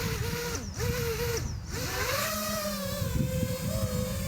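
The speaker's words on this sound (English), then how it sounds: "Engines armed." Motors of an FPV freestyle drone with Mepsking motors whine up after arming, a close steady tonal hum that dips twice and returns, then holds a rising pitch.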